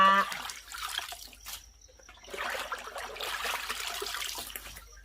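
Fish pieces being rinsed by hand in a basin of water for Thai-Lao fermented sour fish, giving splashing and trickling water sounds in two bursts separated by a brief pause, close and moderately loud.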